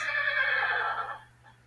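A horse in the Minecraft Hexxit modpack lets out one loud, clear whinny that trails off after about a second, alone over a low steady game hum.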